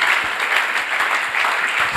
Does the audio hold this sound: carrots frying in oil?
no